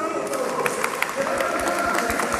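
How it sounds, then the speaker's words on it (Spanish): Festival opening crowd applauding and cheering throughout, a steady dense wash of clapping with scattered shouts, fairly close and loud under a lively room. "Aplauso, aplauso."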